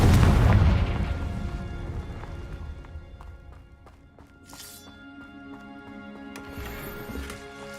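A heavy deep boom from a fiery spell blast in the fantasy video game Hogwarts Legacy, loud and rumbling at first and then fading into a long tail, with game music and light footstep-like patter continuing underneath.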